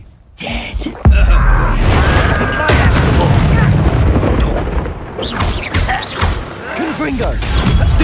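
A Confringo blasting spell detonates in Hogwarts Legacy during a duel, a heavy booming blast followed by sustained rumbling, crashes and impacts, with voices and shouting over the combat.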